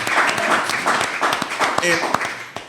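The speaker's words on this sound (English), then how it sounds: "Can we put our hands together for that?" Scattered audience clapping mixed with a speaking voice, with uneven claps and bursts of applause under the talk at a motivational talk.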